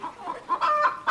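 A voice imitates a clucking chicken with a quick series of short, nasal clucks in an uneven rhythm, close and moderately loud with no other sounds.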